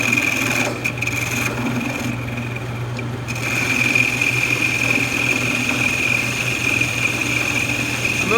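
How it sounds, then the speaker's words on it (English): A metal lathe runs with a parting tool cutting into stock while it is worked back and forth, giving a steady close mechanical whine with a rasping, scraping cut and a brief softer dip partway through. "I'm going to cut into the material, and I'm going to be moving my parting tool back and forth to help clear material."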